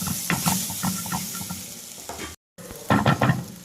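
Onion and tomato gravy sizzles steadily in a pan for a Kerala-style fish roe dish, with repeated scraping stirs close by and a brief gap before stirring resumes.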